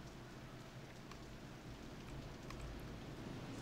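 Steady rain falling in Roller Coaster Tycoon 3, a soft, even hiss of drops that runs quietly throughout with no talking.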